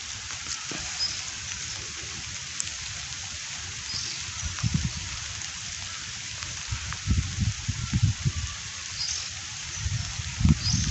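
Light drizzle over a village river during cast net fishing, a soft, continuous patter with some scattered louder splashes and knocks toward the end, fairly faint.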